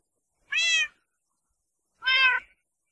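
Two cats meow in Minecraft, each call a clear, bright, tonal cry lasting about a third of a second, with a pause of over a second between the calls and silence all around.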